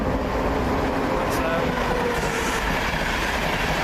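An East Coast train passes non-stop through a station, giving a steady, loud broadband roar of wheels and rails that holds throughout with no break or fade.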